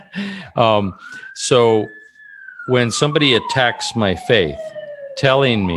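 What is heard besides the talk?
emergency vehicle sirens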